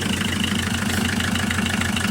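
Ch 4 8.5 diesel engine idling steadily, a loud, close, evenly pulsing low knock with a dense rattling overtone, running alone without any talk.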